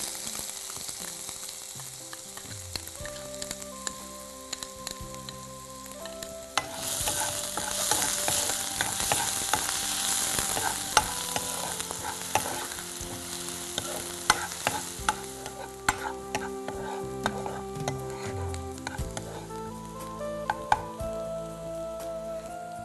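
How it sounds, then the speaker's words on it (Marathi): Chopped onion hitting hot oil in a pan seasoned with turmeric and salt, sizzling and crackling steadily with spoon stirring and scraping throughout, close up and without talk. "कांदा घालून घेऊया."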